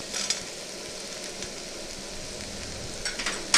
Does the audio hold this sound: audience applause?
no